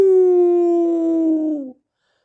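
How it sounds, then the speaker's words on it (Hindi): A single long howl-like tone standing in for barking dogs at night, loud and close, holding steady for about a second and a half, then sliding down and cutting off. "कुत्ते भौंक रहे थे"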